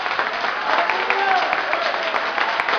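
A church congregation claps along in worship, with dense, continuous hand claps mixed with loud crowd voices and cheering throughout the short burst.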